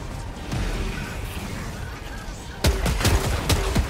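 Heavy autocannon fire in Helldivers 2 during high-difficulty combat, a slow rhythm of loud booming shots that sharpens toward the end over steady background battle noise.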